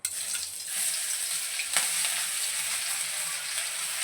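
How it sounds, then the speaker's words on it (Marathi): Ground masala of ginger, garlic and green chilli frying in hot oil in a pan, a steady loud sizzle that holds for the whole stretch with light stirring and no voices. "आता जो आपण मसाला वाटून घेतलेला आहे तो आपण यामध्ये टाकणार आहोत"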